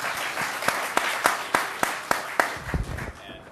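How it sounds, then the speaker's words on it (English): An audience at a Cloud Day 2012 panel event applauds: a short burst of clapping with sharp, evenly spaced claps standing out over a softer spread of hands, fading after a few seconds. "Round of applause."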